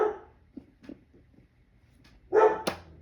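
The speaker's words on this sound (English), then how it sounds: "there's the dog barking." A dog barks a few short times in the distance, faint yips spread across the moment, then a louder close burst near the end.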